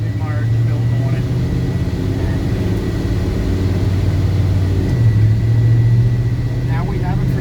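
A restomodded 1967 Chevrolet El Camino engine runs cold on the road, a steady loud low rumble with shifting pitch under driving noise, and a voice talks faintly over it.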